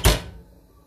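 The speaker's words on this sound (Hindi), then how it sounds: "तो चलिए ओवन का चूल्हा दरवाजा करते हैं बंद।" A kitchen oven door shuts with a single solid thunk at the start, then a short fading resonance.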